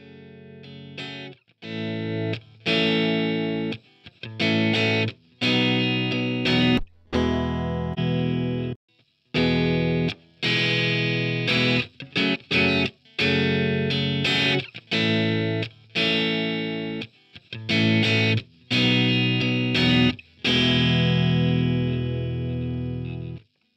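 Electric guitar played through a Fender amp with a bright, twangy tone and spring reverb, a series of strummed chords and short phrases with brief gaps between them, close and clean with no talk.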